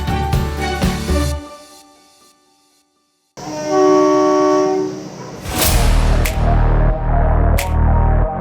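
Kalka-Shimla Railway heritage toy train running on its mountain line in India, with a loud horn blast, a brief lull, then sustained rumbling and rail clatter close by, with sharp squeals or hoots breaking through.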